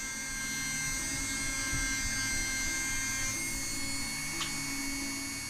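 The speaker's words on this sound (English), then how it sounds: "we'll make easy job of polishing up this windshield today" A power polishing tool buffing the windshield of a 1984 JDM Toyota MR2, a continuous high-pitched electric whine with a steady drone, loud and alone.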